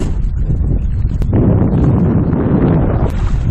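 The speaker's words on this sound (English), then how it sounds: "the wind is just blowing us straight into more rocks" Wind blowing hard and steadily while paddling Hurricane Creek, a loud, continuous roar buffeting the microphone throughout with no speech.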